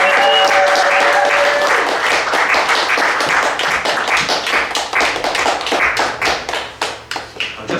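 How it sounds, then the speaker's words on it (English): A book-launch audience gives a warm round of applause as a reader is welcomed to the stage, loud close clapping with a few voices and whistles early on, tapering into distinct scattered claps. "could you please welcome him to the stage, please, with a massive warm round of applause"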